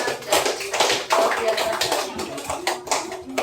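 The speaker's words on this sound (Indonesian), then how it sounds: "tepuk tangan dulu buat kalian semua" A class of pupils claps together in a classroom: a brisk, uneven burst of hand claps close by that swells and fades in waves for a few seconds.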